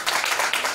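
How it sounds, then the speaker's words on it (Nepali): Congregation clapping hands together during a church sermon, a dense, steady patter of many hands sustained throughout, loud and close with no pause. "हामी ताली बजाएर प्रभुलाई धन्यवाद दिउँ न"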